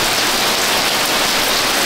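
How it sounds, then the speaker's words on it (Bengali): Heavy torrential rain after a storm pours down in a loud, dense, unbroken hiss of water, steady and close throughout with no voices. "প্রথমে ঝড় হলো, তারপরে মুষলধারে বৃষ্টি।"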